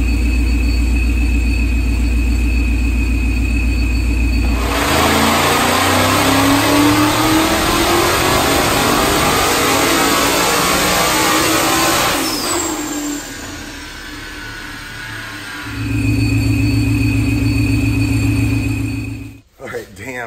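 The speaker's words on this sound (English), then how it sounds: "check this dyno pull out" A 2018 Mustang with a Vortech V7 supercharger and MBRP long-tube headers revs hard under sustained load on a dyno for several seconds, rising in pitch before cutting back to a rumbling idle, with a brief clatter at the end.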